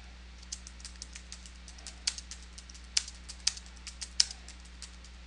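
Quick bursts of computer keyboard typing as a router login password is entered, irregular clicks with a few louder keystrokes, close and alone over a steady low hum.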